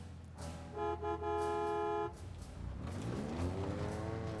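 The Warthog horn in Halo Infinite blares in a few quick honks and then one long sustained blast, loud and close over a steady low vehicle engine rumble that carries on afterward.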